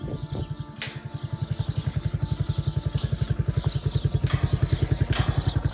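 A motorcycle engine idles close by as the bike is brought through a gate at a dairy cow farm, a steady, rapid thumping beat with light metallic clatter on top.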